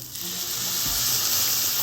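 Onions sautéing in a pan with a splash of water for potato masala give a loud, continuous hiss and sizzle close up, with a brief low knock partway through.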